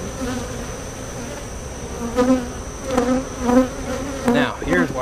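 Honey bees buzz close by in an open hive, a dense droning hum with individual bees swelling louder as they fly past, no voices.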